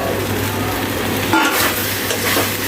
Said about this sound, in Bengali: এখন আমি এই যে ভেজে রাখা আলুগুলোকে দিয়ে দিলাম